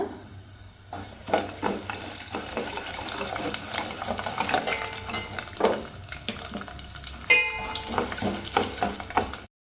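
Dill-leaf (sabsige soppu) avalakki sautéing in a pan, with a spatula scraping and tossing the flattened rice in irregular, close strokes over a soft sizzle.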